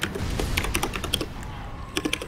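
Rapid typing on a computer keyboard during a game stream, a busy stream of close clicking keystrokes that slows briefly midway and then picks up again in a short burst.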